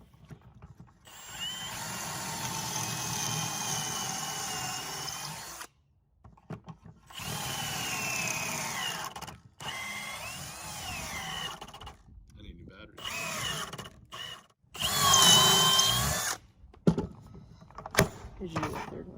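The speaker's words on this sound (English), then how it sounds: "now he's going to drill the holes in here" A handheld power drill bores holes into a wooden post held in a jig for a DIY chicken roost, running in several long whirring bursts with pauses between and light talk in the background.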